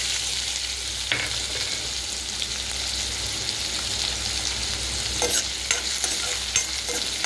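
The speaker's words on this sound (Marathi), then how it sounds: "कांदा असं जरा परतून घेऊया लालसर." Onion fries in oil with mustard seeds and cumin, giving a steady close hiss broken by a few scraping stirs near the end.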